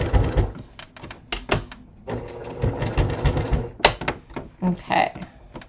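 A sewing machine stitches close to the edge of leather straps for a crossbody bucket bag, sounding in short bursts of rapid mechanical clatter broken by pauses, with a voice talking now and then.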